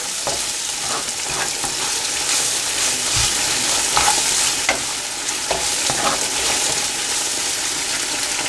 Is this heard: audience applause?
no